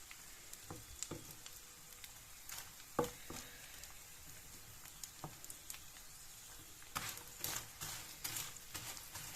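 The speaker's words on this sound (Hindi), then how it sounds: "तो इसलिए हम दूध को अच्छे से फ्राई करते हैं।" Milk frying in a pan for panjeri, a faint steady sizzle with scattered soft pops and the occasional clink of stirring, heard without talk.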